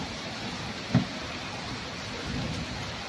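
Heavy monsoon-style rain pours down in a steady, dense hiss close by, with a brief low thump of distant thunder early on.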